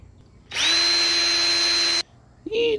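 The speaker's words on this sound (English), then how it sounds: "I'm gonna drill a pilot hole again" A power drill bores a small pilot hole in steel for a tractor bucket trailer hitch, a loud steady whine lasting about a second and a half, then stopping, with a brief restart at the end.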